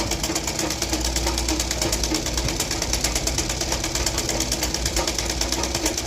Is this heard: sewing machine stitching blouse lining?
yes